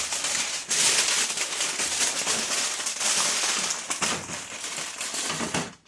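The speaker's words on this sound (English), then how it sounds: "I'm just going to wrap them up. I think I have this big foil here." Large sheet of aluminum foil crinkling and crackling while wrapping smoked pork ribs, a dense run of sharp rustling bursts close up, continuous for several seconds and ending abruptly.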